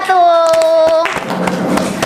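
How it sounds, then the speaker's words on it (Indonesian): A classroom bursts into applause for a student group, a quick patter of many hands clapping close by right after a voice speaks. "Beri tepuk tangan untuk kelompok"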